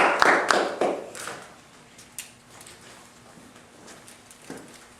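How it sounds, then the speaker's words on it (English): A brief burst of applause that quickly fades, leaving a few scattered claps and taps against a quiet room hum. "give him a round of applause, please."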